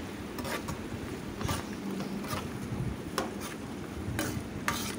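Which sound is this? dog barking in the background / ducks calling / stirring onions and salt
stirring onions and salt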